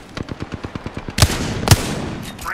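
Gunfire in the Apex Legends battle game: a rapid burst of about ten automatic shots, then two heavy, louder single blasts with a lingering rumble, close and punchy.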